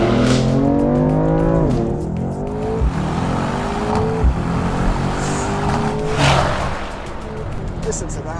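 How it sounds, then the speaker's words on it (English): A 2020 BMW M4 with its inline-six exhaust in the most aggressive mode, revving loud and close as it climbs through manually shifted gears with clear breaks at each shift, while a person talks over it. "You get to listen to this exhaust."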